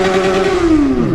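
A Yamaha XJ6 motorcycle revs loudly and close, its engine tone holding high and then sliding downward as the revs fall, rough and throaty, with no talking.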